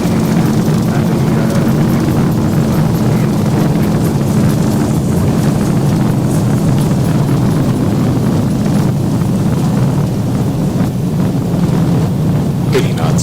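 An airliner rolling out after landing at Copenhagen in X-Plane 12 with the Zibo mod, a loud, constant rumble and rush of engine and wheel noise, with faint voices in the background.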